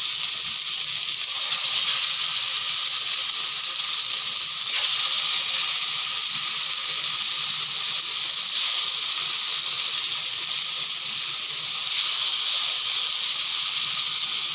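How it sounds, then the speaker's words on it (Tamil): Fish pieces frying in hot oil on a dosa tawa, a steady loud bright sizzle and hiss that runs unbroken from start to finish, close up with no talk. "இப்போ பாருங்கள் ஃபிஷ் ஃப்ரை தயாராகிட்டுருக்கு."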